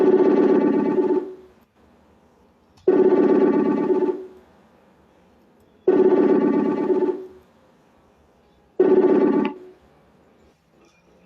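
A telephone rings four times in evenly spaced, loud tonal bursts, each about a second and a half long, with quiet gaps between them.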